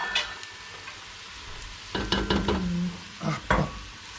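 Mushrooms sizzling in a hot pan with a spoon stirring them, a soft frying hiss throughout broken by several scraping, clattering stirs against the pan, close by and without talk.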